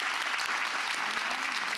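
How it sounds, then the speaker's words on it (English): Brief burst of audience clapping at a women's leadership conference, a dense, fairly soft patter of many hands heard alone. "Please clap for that."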